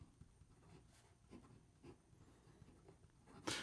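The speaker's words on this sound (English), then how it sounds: "So here we go with a writing sample for the Onoto Scholar." An Onoto Scholar fountain pen with a fine gold-plated stainless steel nib writing on paper, faint, close scratching strokes with soft taps and pauses, ending in a louder brushing scrape.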